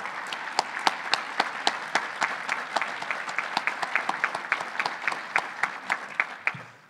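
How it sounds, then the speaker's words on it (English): A conference audience at the EANGUS 48th annual business session claps steadily, with distinct, fairly close hand claps forming a rhythmic patter that stops abruptly. "So let's give them another round of applause."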